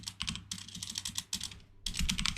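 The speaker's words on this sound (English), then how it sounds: "I'll just type down ID" Rapid clatter of a computer keyboard typing field values into a Salesforce Flow, with bursts of keystrokes separated by brief pauses, close and fairly loud, with no voices.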